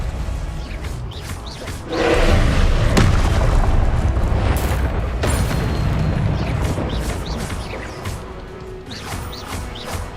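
Confringo fire-spell explosions in Hogwarts Legacy combat erupt with a heavy boom about two seconds in, followed by sustained rumbling blasts and crackling impacts that slowly taper off, loud and near.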